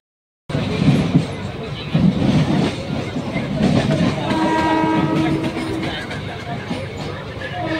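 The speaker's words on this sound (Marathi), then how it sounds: "गाडी आली आहे" A Panvel-bound local train on the Central line pulls into a Navi Mumbai station platform, a steady loud rumble with clattering wheels and a tonal horn-like whine, heard among platform crowd noise and voices.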